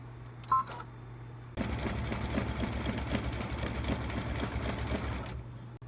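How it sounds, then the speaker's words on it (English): An embroidery machine stitches a fleece pillow piece in the hoop, running as a steady rapid mechanical whir with fast rhythmic needle ticks after a few brief beeps, close and alone. "I'm going to take this to my machine and stitch the next step."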